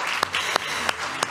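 Audience applause greeting a quiz team on stage at a general-knowledge contest, a steady wash of clapping with a few sharper, louder claps standing out at regular intervals; no talk over it.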